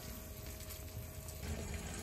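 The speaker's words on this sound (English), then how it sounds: "it's really nice to have hot water coming from the sink" Hot water runs steadily from the sink tap in a camper van, a constant close rushing and gurgling flow with no breaks.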